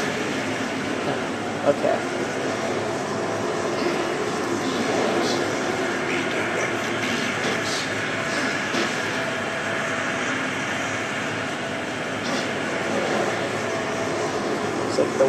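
A subway train rumbles past in the Darksiders video game, a loud, sustained roar of rail noise that stays constant throughout, with a player briefly speaking over it.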